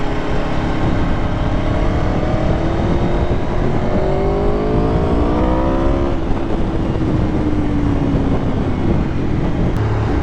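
A new motorbike pulls away on the road with a loud, continuous engine note that rises in pitch through the gears, heard close against steady wind and road roar, with no talk.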